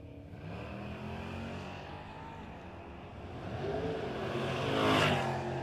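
Drag race cars, including a Camaro and an El Camino G-body, launch down the strip at a no-box 660 shootout, their engines rising in a swelling roar that builds and pulls away at moderate distance.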